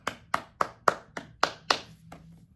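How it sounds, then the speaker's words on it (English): Crisp hand claps, about seven sharp evenly spaced strikes, close and clear with nothing else around them. "Round of applause for Bahrain."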